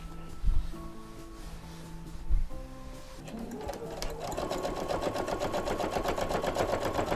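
A sewing machine topstitches all the way around a fabric pouch, a steady rapid mechanical whir that starts after a few seconds and runs on continuously, loud and close, with a few thumps and softer handling sounds before it.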